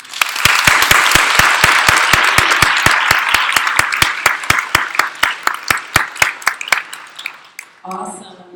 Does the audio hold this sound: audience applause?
yes